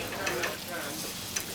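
Food sizzles in a frying pan in a busy restaurant kitchen, a steady close hiss with a few soft clinks.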